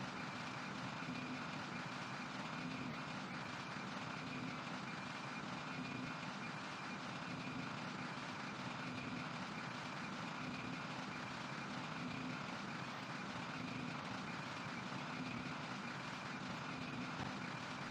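Simulated Boeing 747 jet engines in the PTFS flight game roar steadily in a dense, unbroken wash of noise with a faint hum beneath, holding constant throughout a steep dive.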